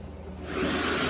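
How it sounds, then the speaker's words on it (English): A power drill bores a pilot hole while a spare tire door and fuel pump access panel are being built, a short whirring burst that rises quickly to a loud, steady grind, close by and with no voices. "Now I'm going to take my drill, make a pilot hole"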